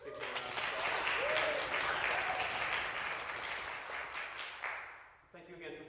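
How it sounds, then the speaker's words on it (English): A concert audience claps for the coach of a New School brass quintet, loud sustained applause that builds and then tapers off before a voice resumes speaking at the end. "Let's give him a round of applause."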